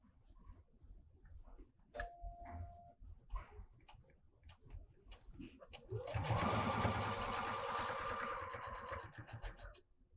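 A Bernina sewing machine stitches apron fabric: a few quiet handling clicks and taps come first, then the machine runs in a steady, close, buzzing whir for several seconds.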